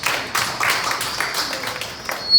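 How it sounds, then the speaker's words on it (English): Audience applause after the first debate speaker from Abbey Technical is introduced, a steady patter of hand claps at moderate loudness lasting a couple of seconds and swelling slightly at the end. "A round of applause."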